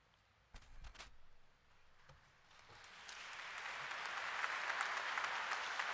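A church congregation applauds after a homily, a few scattered claps at first that swell into sustained, fairly distant applause filling the hall.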